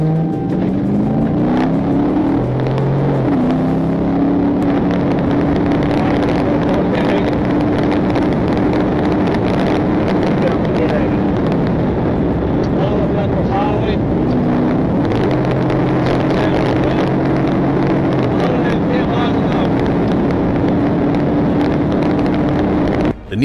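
A Nissan car speeding away at high speed in a police pursuit, a loud, steady engine roar with wind rush that holds for the whole stretch, no talking.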